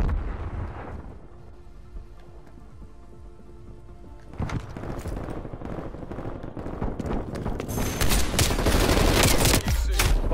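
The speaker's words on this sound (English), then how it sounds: "I can hear a gunfire." Gunfire in Call of Duty: Black Ops Cold War, with a dense rattle of shots and blasts that swells louder in the second half, under a low game background.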